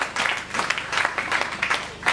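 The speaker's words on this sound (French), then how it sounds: "Est-ce qu'on peut acclamer encore?" A church congregation claps together in quick, fairly even bursts, filling the room for a couple of seconds with no voices on top.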